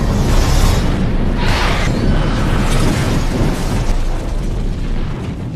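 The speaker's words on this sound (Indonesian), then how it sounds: "Namun sayang, ambulans yang membawa Malcolm pun meledak" A film ambulance explodes in a loud, sustained blast that fills the whole stretch, with a sharp burst near the start and a second surge of debris and rumble, slowly easing toward the end.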